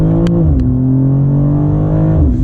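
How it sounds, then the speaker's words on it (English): A 2025 BMW M2 with automatic transmission accelerating hard, its engine note climbing steadily in pitch and then dropping briefly at a gear shift. The sound is loud, close and continuous, heard from inside the car. "All right, let's accelerate."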